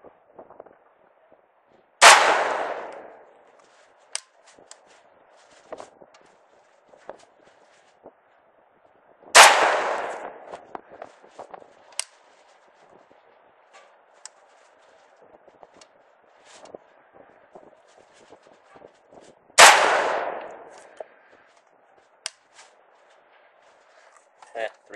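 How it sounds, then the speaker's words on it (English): Three sharp, loud shots from a Saiga 5.45x39 rifle fired at a target about 21 feet away, spaced roughly seven seconds apart. Each crack rings out briefly, with faint clicks and handling noises in between. "So we're gonna take a couple of shots here"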